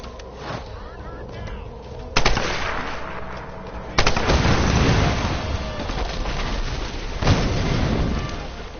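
Gunfire rattles through a Tomb Raider battle, with sharp loud cracks and sustained machine-gun bursts layered over a busy combat din.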